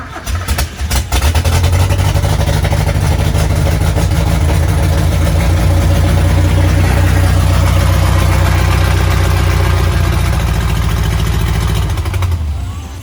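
A rebuilt 2.2-liter Mazda B2200 engine cranks and catches after a few sputters, then runs loud and steady at a rough idle with a deep mechanical drone for about ten seconds before cutting off.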